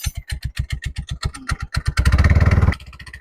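A small motorcycle engine with a loose part chugs in a steady, uneven putter, briefly revs up into a fast, loud rattle when the throttle is opened, then drops back to idle.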